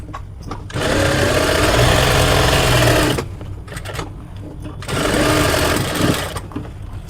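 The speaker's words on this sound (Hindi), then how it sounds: "I'm just going to continue stitching and make sure the pocket is secured too." Sewing machine stitching a double zipper pouch, running in two loud, steady bursts of a few seconds each with a short pause between, close by.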